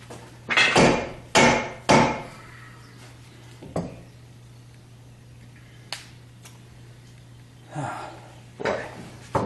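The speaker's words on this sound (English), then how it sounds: "See if my dead blow hammer will dislodge it." A dead blow hammer strikes a seized direct-lift hydraulic cylinder in about seven sharp, irregular thuds. The blows are louder and closer together at first, with quiet gaps between the later hits.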